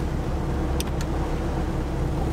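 Steady low rumble of a car cabin while driving, a constant engine and road drone heard from inside, with two faint short clicks partway through and no talking.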